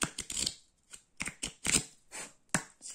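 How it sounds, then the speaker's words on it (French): Oracle cards are shuffled and handled up close in a series of quick riffling swishes and sharp slaps, irregular bursts with short gaps between, with no talking. "Je vais vous sortir une carte de l'oracle de l'âme."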